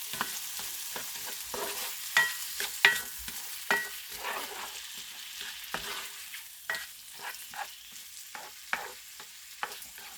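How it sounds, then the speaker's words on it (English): Sizzling pan being deglazed with lemon juice while browned bits from pork loin are scraped and stirred, with repeated spatula scrapes and clinks over a steady crackling fry, no talking. "So that's going to help deglaze the pan, break up any of those yummy brown bits"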